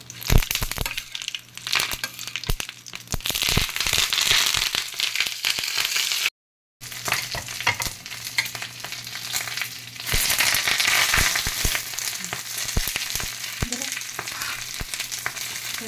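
Katla fish coated in masala fries in a hot pan with a dense, continuous sizzle and crackle that stays loud and steady throughout. A brief dropout to silence breaks it near the middle.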